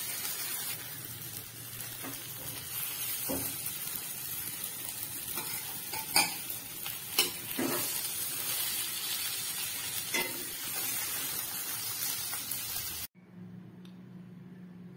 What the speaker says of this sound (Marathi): आता ह्याला मी मिक्सरच्या भांड्यामध्ये काढून घेणार आहे.